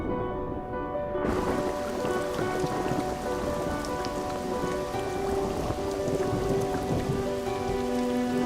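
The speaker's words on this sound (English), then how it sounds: "The rain transforms streams." Heavy monsoon rain pours down steadily in Cambodia, a dense, loud wash of drops on surfaces with no pauses, a faint low rumble of thunder underneath.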